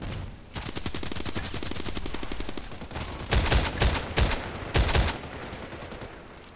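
SVD-S sniper rifle shots in a shooter game, a fast rattle of gunfire followed by three sharp, loud separate cracks with short gaps between them.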